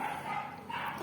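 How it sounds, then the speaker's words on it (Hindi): Dogs bark from some distance, with a few short, faint yaps blending into a steady background hum across the brief moment, with no voices over them. "कुत्ते के भौंकने की आवाज़ आ रही बहुत।"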